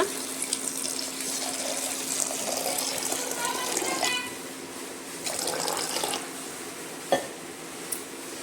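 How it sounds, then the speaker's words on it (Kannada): Water pours in a steady gush into a pressure cooker holding chopped onion and tomato, fairly close and continuous, with a couple of brief knocks near the end. "ಇದಕ್ಕೆ ಇವಾಗ 2 ಕಪ್ನಷ್ಟು ನೀರು ಹಾಕಿ ಬೇಯಕ್ಕಿಡೋಣ."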